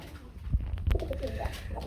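A pair of Gorra pigeons coo nearby, giving a few soft, low throaty calls that pulse briefly above faint background noise.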